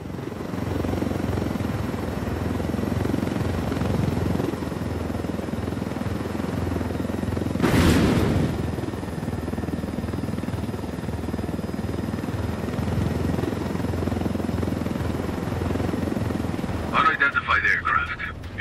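A helicopter flies overhead in Ghost Recon Wildlands, a constant loud rotor and engine drone running throughout under radio voices, with a brief burst of noise in the middle and a crackle near the end.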